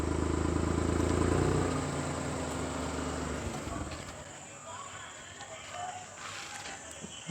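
A motor vehicle engine idles through its silencer with a steady, loud low drone that thins and fades partway through, leaving softer ambient outdoor noise with faint bird sounds.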